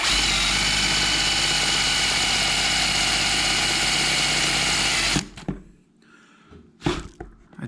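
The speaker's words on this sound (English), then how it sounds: "So I gotta make a little hole in it, see how this works." Power drill boring a small hole into a Chevy LS 706 cylinder head, a loud, steady whine running continuously for about five seconds before cutting off, followed by a few brief knocks and clatters.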